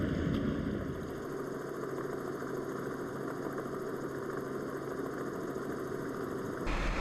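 Yamaha FX SVHO personal watercraft engines at a 2014 AquaX race in Tampa, a steady loud mechanical drone with a high whine that shifts sharply near the end.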